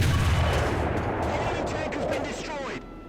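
A tank cannon firing in War Thunder gameplay: one heavy, booming shot at the start that decays into a rumbling tail over a few seconds.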